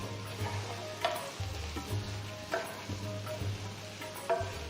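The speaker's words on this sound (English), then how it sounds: "Mix everything well till the tomatoes have become nice and mushy." Tomato and spice mixture with Kashmiri red chilli, coriander and cumin powders being stirred in a cooking pan, giving a steady low sizzle with occasional scraping clinks of the utensil, close and alone without talk.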